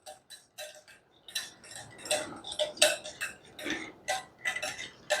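Wire whisk ticking rapidly against a pan as butter is beaten into hollandaise sauce for eggs Benedict, a close, steady run of light metallic clicks with no talk.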